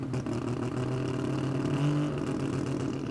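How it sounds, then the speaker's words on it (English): Rotary-engined drag car at Willowbank Raceway, Australia, unable to idle and held on the throttle so it won't stall; a rough, buzzing engine note blipping and surging at close range for a few seconds. "It sounds like he just keeps revving it up so it doesn't die."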